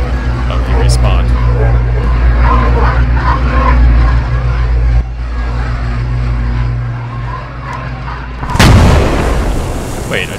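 A bomb planted by a droid goes off in the Star Wars Squad mod Galactic Contention: a sudden loud, sharp blast near the end bursts over a constant rumble of distant battle and engine noise.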